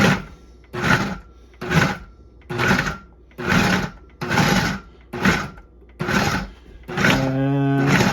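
Food processor pulsing a tourtière meat pie filling, about nine short roaring bursts in a steady rhythm with brief gaps, loud and close, the last burst longer with a whining tone.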